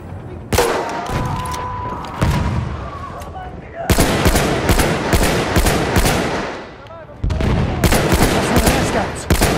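Bursts of rapid machine gun fire in a first-person shooter match, loud and close, arriving in several sustained volleys with short gaps between them, with occasional distant explosions mixed in.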